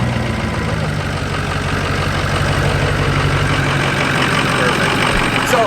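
6.0 engine cranking and running with a steady, loud, close rumble and a faint knocking texture throughout, with no clear break or pause.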